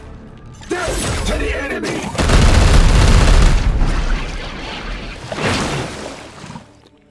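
Heavy weapons fire and blasts in the Warhammer 40K Chaos Gate - Daemonhunters strategy game, a sustained roaring barrage with booming impacts rising to a loud peak, then tapering into a rumbling tail.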